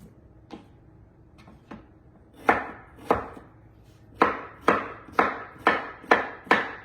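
A knife chops through sweet and white potatoes on a cutting board, the sharp thuds coming close and clear, a few scattered strokes at first and then a steady, regular run of cuts.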